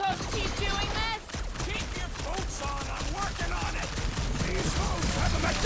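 Rapid gunfire bursts from a Guardians of the Galaxy action game, dense repeated shots layered with game voices and music, loud and continuous throughout.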